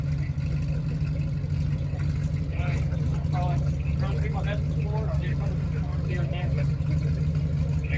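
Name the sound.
car engine running at a muscle car show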